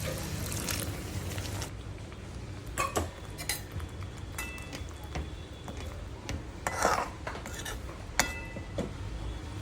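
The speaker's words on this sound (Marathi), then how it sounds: "गरम पाणी टाकते थोडंसं" Hot water is poured into a simmering drumstick (moringa pod) gravy and stirred, with soft trickling and scattered metallic clinks of a spoon against the pot over a low kitchen background.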